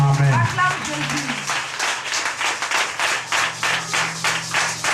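A church congregation claps in steady rhythmic unison during worship, with loud voices calling out and singing over the clapping.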